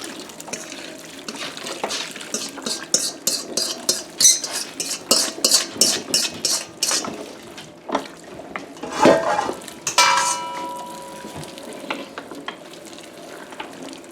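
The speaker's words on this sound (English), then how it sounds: "As she stirs, I'm going to be dumping in our cure and seasoning" Ground deer meat is stirred by hand with cure and seasoning for homemade salami, producing a rapid rhythmic squelching and mixing near the listener, followed by a louder scrape and clatter.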